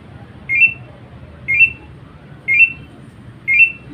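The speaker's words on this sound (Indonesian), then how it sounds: "Seperti ini, dia akan berbunyi terus menerus." A shrill electronic distress alarm from a Dräger PSS 7000 self-contained breathing apparatus chirps in evenly spaced bursts, one per second, four times, loud and close against a low background hum.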